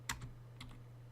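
Two or three quick computer keyboard key presses, standard keys used as keybinds, sound close and crisp over a steady electrical hum.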